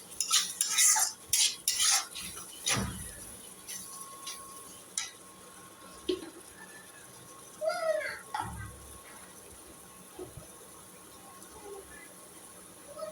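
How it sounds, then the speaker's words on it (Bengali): A utensil stirs chili powder and spices in a metal cooking pan, giving irregular scraping clinks and clatters in bursts, close by, with faint sizzling between strokes. "দিয়ে ভালো করে নাড়াচাড়া করতে হবে।"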